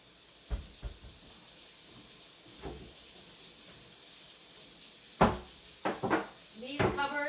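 Kitchen cupboard doors bang open and shut several times, a few soft knocks early and then sharper, louder clacks in quick succession near the end, over a faint steady hiss of running hot water.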